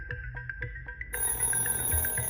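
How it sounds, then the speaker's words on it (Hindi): Phone ringing with a rapid series of bright, repeated electronic chirps, then a fuller ringtone bursts in partway through and continues, fairly close, with no talking. "फोन बज रहा है।"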